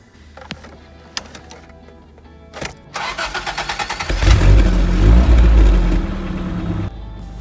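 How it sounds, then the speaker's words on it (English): A manual-transmission car engine cranks briefly with a few clicks, then catches and settles into a loud, close idle, with one quick rev before easing down. "go ahead and turn the car on so we can try some startups"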